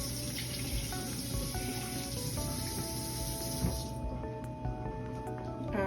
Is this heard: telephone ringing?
no